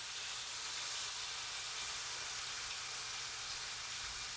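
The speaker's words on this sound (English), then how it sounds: "sear this thing until golden brown on each side" Elk roast with garlic searing in a hot pan, giving a steady, even sizzle and hiss that carries on without a break, close and fairly loud, with no voices.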